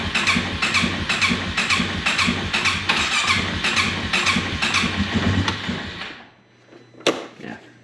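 An engine cranks over and over in quick rhythmic pulses without catching, the starter grinding for about six seconds before cutting off, followed by a single sharp clunk.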